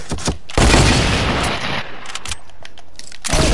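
Loud video-game gunfire rings out close, a burst of rapid shots and booms at the start, then scattered sharp reports fading into a quieter stretch before another cluster near the end.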